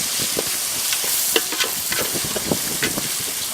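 Snail curry being sautéed in a pan with turmeric, a continuous loud sizzle with frequent scraping strokes of a spoon stirring close by, and no talk.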